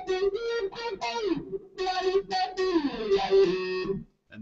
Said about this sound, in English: So we got distortion and the wah pedal.